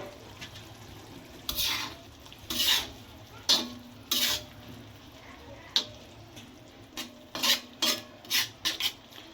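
Chicken liver for a kaleji fry cooks in a pan over a soft background sizzle, with repeated bursts of scraping as it is stirred, some short and some in quick runs.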